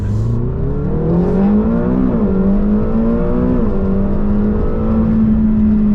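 A McLaren GT with a muted exhaust accelerates on the road, its engine note loud and steady as it climbs in pitch, dips slightly at a gear change, then holds a sustained tone.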